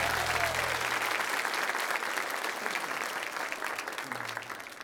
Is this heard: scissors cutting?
no